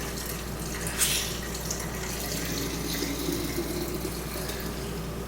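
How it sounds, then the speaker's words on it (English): Homemade hard apple cider is poured into a sanitized beer bottle, giving a steady, continuous liquid pour and gurgle at close range with no talking. "we're basically going to be pouring it into the bottle here"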